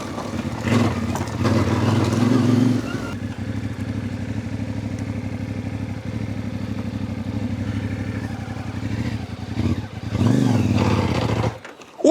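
Motorcycle ridden along a desert sand track in Morocco, its engine droning steadily and close up with some clatter, loud throughout before cutting out near the end.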